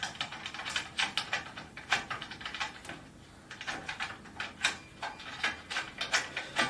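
Metal bolts being turned by hand into the frame of a Manhattan table, a quick run of small ratcheting clicks and scrapes, close and quiet with a brief pause midway.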